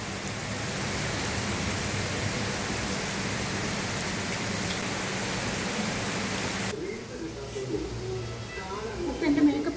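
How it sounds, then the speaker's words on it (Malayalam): Heavy rain pours at night with strong wind, a loud, steady wash of noise that eases off slightly toward the end, with faint sounds near the close. "നല്ല കാറ്റുണ്ട്, കാറ്റും മഴയും."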